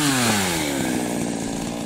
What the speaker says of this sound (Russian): Вот пила настоящая.